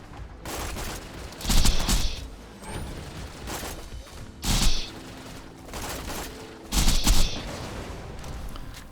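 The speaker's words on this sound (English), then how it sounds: "I seem to be doing a decent amount of damage just shooting that spider tank" Gunfire in the Borderlands 2 video game aimed at a spider tank, rapid repeated shots with several louder bursts of explosive impacts, dense and close throughout.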